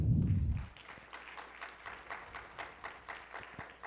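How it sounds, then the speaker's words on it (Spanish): A hall audience at a law students' conference claps for a speaker, with a light, fairly distant patter of hands continuing steadily after a brief louder noise at the start. "Un aplauso para el doctor, por favor."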